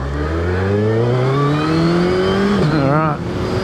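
A 2022 Suzuki Hayabusa motorcycle accelerating hard with its quick shifter on, engine tone climbing steadily through gears with a brief smooth shift blip near the end, loud and close under wind noise.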